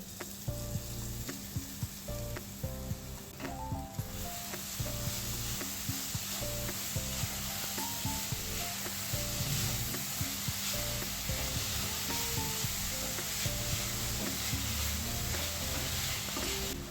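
Steady sizzling and crackling from a hot pan of jaggery and grated coconut cooking, with soft scraping of stirring throughout; no voices, constant and close.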